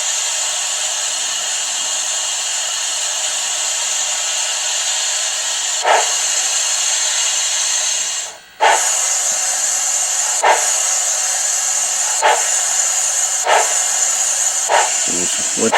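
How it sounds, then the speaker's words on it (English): A steady, airy hiss of a DCC sound dynamo kicks on inside a Bachmann B&O 2-8-0 model steam locomotive, running continuously with a brief dropout and a few faint clicks over it. "Hear the dynamo kick on."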